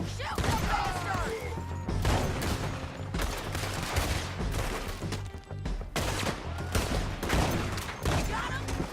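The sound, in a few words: gunfire in Red Dead Redemption 2 video game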